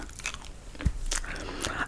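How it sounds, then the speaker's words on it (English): Chewing gum close to the microphone, with wet, smacking chews and small crunchy clicks in an irregular rhythm, intimate and clear with no talk. "I'm doing story time, child, and I'm chewing gum."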